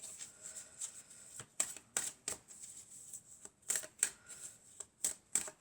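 Tarot cards being shuffled and drawn during a love-theme reading, giving soft papery riffles broken by several sharp snaps and flicks as cards are laid down, close and fairly quiet with no talk.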